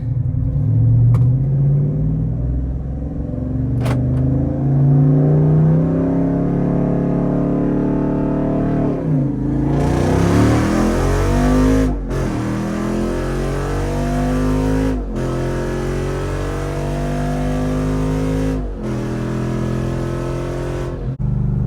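Jeep Wrangler Rubicon 392 on massive tires drag racing an Acura NSX: a loud engine rumbles at idle, then revs hard and accelerates through several gear changes, sustained and close.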